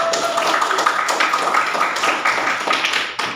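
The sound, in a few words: classroom clapping for Regita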